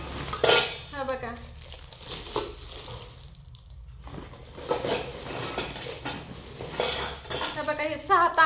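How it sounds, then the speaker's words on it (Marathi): Heavy copper water pots and steel vessels clank and knock together as they are handled and set down, several metallic clatters close by with someone talking between them. "हे तांबे आणल्यात हो का, तांबे पण केवढा जड आहे"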